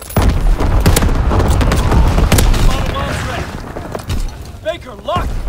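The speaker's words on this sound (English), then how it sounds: "Low altitude bomber inbound. Dropping incendiary." Incendiary bombs fall from a low-altitude bomber in Call of Duty WW2, a run of heavy booms and blasts mixed with scattered gunfire and battle noise, loud and close, trailing into crackles and shrill whistles near the end.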